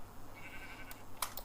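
Sheep bleat briefly in the survival video game Minecraft, faint and short over a low steady background hum, with a couple of clicks near the end.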